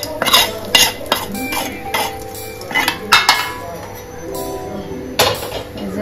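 Potatoes are stirred in a pan, with a utensil clinking and scraping against the metal in irregular bursts, close by, while a voice speaks intermittently.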